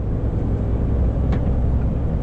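Slow-moving small cars on a snowy road in heavy snowfall, a steady low rumble of engines and tires that stays constant and fairly close throughout.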